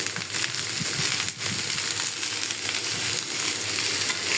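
Green chilies frying in oil in a wok for bitter gourd fry, a steady close sizzle with a few soft crackles and scrapes throughout.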